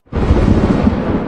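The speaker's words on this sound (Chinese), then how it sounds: "天雷" A dramatic heavenly thunder and explosion effect from a costume drama erupts suddenly as a loud, sustained rumbling roar that holds steady for over a second with no voices.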